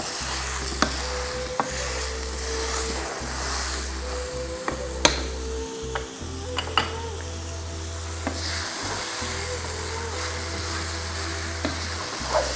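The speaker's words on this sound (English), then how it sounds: "Just brown the mince a little bit." Minced meat sizzles steadily in a frying pan while being mashed and browned, with a constant fry hiss, a low repeating hum, and scattered clicks and scrapes of the masher against the pan.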